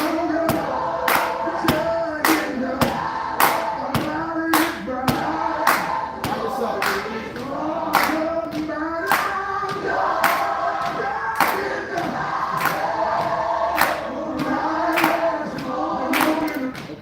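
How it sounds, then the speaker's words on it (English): A group clapping and stomping a Pentecostal beat: sharp, evenly spaced claps keep a steady driving pulse over a constant crowd murmur and low thuds, continuous and fairly loud. "you're doing a great job and you're clapping, but your stomp is weak"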